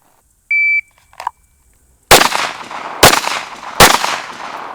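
Three sharp, loud Sig P320 pistol shots fired about a second apart on a range, each with a short ringing tail, after a brief electronic beep from a shot timer.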